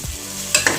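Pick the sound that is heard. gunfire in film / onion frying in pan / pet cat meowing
onion frying in pan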